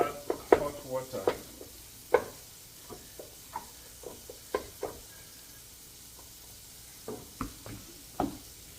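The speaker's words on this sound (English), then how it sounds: "I'll add hot water." Groundnut soup sizzling in a hot pot as hot water goes in, with crackling spurts and a few sharp clinks and knocks of a spoon against the pot over a steady frying hiss, and no talking.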